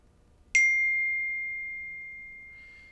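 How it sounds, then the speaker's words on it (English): A bell or chime is struck once during a morning announcements session, giving a bright, clear ring that hangs on a steady tone and fades slowly over a couple of seconds in an otherwise quiet room. "Now in a moment you'll hear a bell or a chime."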